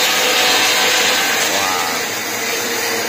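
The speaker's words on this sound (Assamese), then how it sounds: "ধান মৰণা মৰা মেচিন এওঁলোকে নিজে তৈয়াৰ কৰি লৈছে" A homemade paddy threshing machine runs with a loud, continuous, broadband rushing and rattling roar, close by, slightly easing toward the end, with no speech over it.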